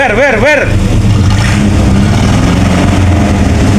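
A Ford Laser car engine idles and revs loudly up close, with a steady rumble throughout while a voice talks over it.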